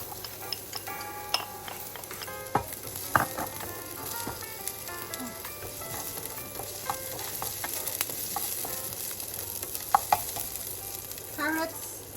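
Garlic and onion sizzle steadily in a hot pan for Filipino pancit bihon. Scattered clicks and taps of stirring and utensils against the pan come through, fairly close and moderately loud.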